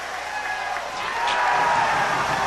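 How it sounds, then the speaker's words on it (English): A hockey crowd at a 1994 RPI versus UVM college game reacts to a hit on the ice, a steady arena roar that swells louder partway through and holds. "Crowd reacting to a hit Askew put on Larkin"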